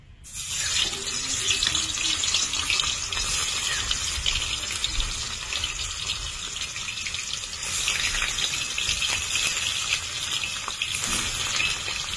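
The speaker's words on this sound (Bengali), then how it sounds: "পনিরগুলো ভেজে নেব।" Paneer pieces frying in hot oil in a kadai give a loud, steady, close hissing sizzle that runs unbroken for the whole stretch, with no voices over it.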